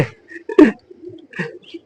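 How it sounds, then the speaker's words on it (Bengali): A pair of pet pigeons in a large home loft coo in soft low bursts, close by, with a brief voice and rustle between calls. "এই দেখেন এক পেয়ার কবুতর"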